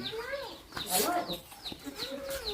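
Chickens clucking around a Thai farmyard, with short rising calls repeating every half second or so, close by and moderately loud, while someone talks over them.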